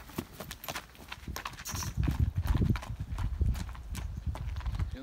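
Hooves of a Percheron mare walking, a close, rhythmic clip-clop that grows louder midway, with faint outdoor background and brief murmurs of people nearby.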